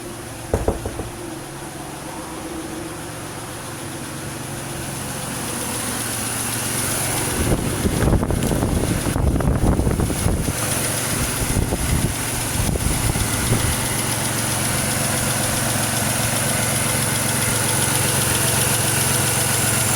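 Supercharged V6 in a 2006 Grand Prix, freshly swapped in, idles steadily and fairly loud for the whole stretch, with a few heavier bursts of mechanical clatter and knocking near the start and middle.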